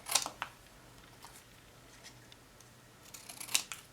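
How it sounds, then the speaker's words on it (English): Scissors snip through card paper for a Halloween card, a few short crisp cuts near the start and a cluster again near the end, quiet with gaps of near silence between. "I'm going to take scissors."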